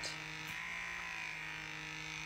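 A microdermabrasion suction exfoliating tool runs at its highest intensity, a faint steady electric buzz with a constant hum and a slight wavering whir, close to the skin.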